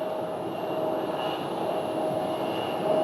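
Jet airliners taxi at Phoenix airport, a steady distant turbine whine with a high tonal hum over broad roaring noise, continuous and moderately loud, without voices.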